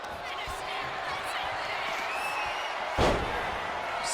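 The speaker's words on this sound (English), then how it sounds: "Slamming their opponent into place." Wrestling slam in WWE 2K25 with an arena crowd roaring throughout; one heavy body-to-mat thud lands near the end amid steady crowd noise and a few lighter impacts.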